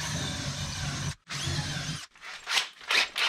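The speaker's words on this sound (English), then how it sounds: "gonna run a few drill bits through here too because don't want to split out that stuff." A power drill whines in two bursts boring into wood, then softer scraping and rubbing sounds follow in short pulses.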